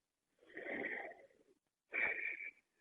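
Two audible breaths during a power yoga flow, each a rough, airy inhale-exhale lasting about a second, separated by a short pause; close and fairly quiet, with no talking.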